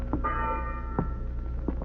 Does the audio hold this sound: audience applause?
no